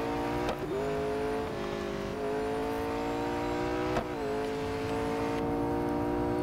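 McLaren 765LT racing car in Real Racing 3, its engine droning steadily with rising and falling pitch through gear changes, sharp shift blips punctuating a constant loud roar, no voices.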